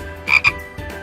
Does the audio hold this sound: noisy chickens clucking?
no